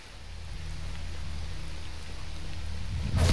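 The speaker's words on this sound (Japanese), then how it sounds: "雨降ってるけど" Rain falls in the video game S.T.A.L.K.E.R. Shadow of Chernobyl as a steady, even hiss that slowly swells, then ends in a brief louder burst.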